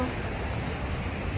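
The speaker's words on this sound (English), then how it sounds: "all the rocks stuck there and water coming from up there. Look at that. Big waterfall." Water tumbling over rocks at Morton Waterfalls near Campbell River, British Columbia: a loud, steady, broadband roar heard close up and continuous throughout, with no speech over it.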